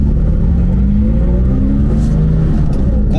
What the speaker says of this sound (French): Alors on passe les rapports et vous allez le voir, c'est un petit peu dur